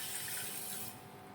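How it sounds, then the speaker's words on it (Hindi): Water is poured into a pan with a bowlful of sugar to make sugar syrup, giving a soft, steady splashing trickle that stops partway through; close and fairly quiet. "1 कटोरी जितना ही इसमें हमने डाल दिया है पानी"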